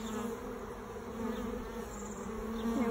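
Honeybees buzz around a hive while a box is added and cross comb is fixed, a dense steady drone of many wings, close and continuous, with individual bees passing nearby.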